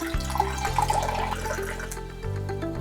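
Frost Punch cocktail streaming through a small-holed strainer into a glass, a short, close, steady trickle and splash of liquid that thins out near the end, with no speech.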